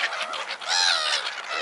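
Birds being fed squawk and call over one another in a loud, continuous, overlapping clamour of harsh cries, close by with no voices.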